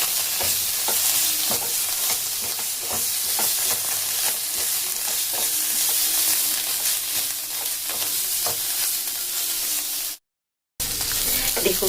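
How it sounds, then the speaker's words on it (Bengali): Poppy seeds frying and being stirred in oil in a kadai, a steady close sizzle with scraping stir strokes that runs without pause, then drops out briefly near the end and comes back. "দেখুন খুব সুন্দর ভাজা হয়ে গেছে"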